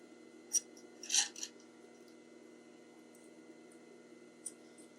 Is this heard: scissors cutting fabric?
yes